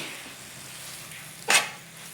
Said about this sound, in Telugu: ఇది బాగా కొంచెం ఫ్రై చేసుకున్నాం ఆయిల్లోనే